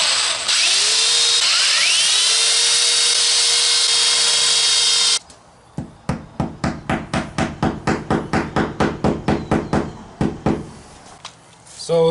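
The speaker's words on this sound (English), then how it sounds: "the drill bit we're using here is 3/16" A power drill with a 3/16 bit spins up with a high whine for several seconds, then a run of rapid, evenly spaced sharp impacts as holes are drilled, close and loud.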